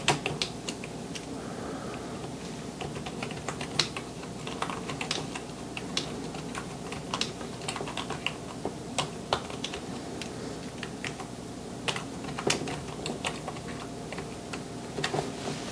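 Rapid, steady clacking of keys on a cheap sub-$10 AliExpress gaming keyboard, typed close up with bright individual key hits and no voices.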